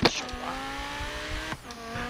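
A loud car engine in Forza Horizon 3 drones at a steady high pitch with a sharp burst at the start and a shift near the end, like a gear change, with faint background noise.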